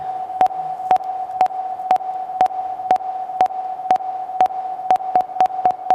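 A steady synthesized tone holds throughout, punctuated by regular sharp clicks at roughly half-second intervals, clean and electronic with no voices.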